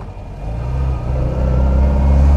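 Engine of a 1954 Alfa Romeo 1900C SS, still cold and a little sluggish, idling and building steadily in a low, close rumble with no voices.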